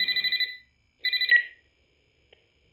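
Telephone ringing in the horror game Graveyard Shift at Freddy's: two loud bursts of rapid trilled bell rings about a second apart, followed by a short blip and the start of another ring, with no talk over it.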